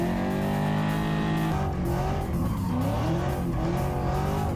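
A car drifts in Baghdad with continuous loud tire squeal and a revving engine, the screech rising and wavering steadily without pause.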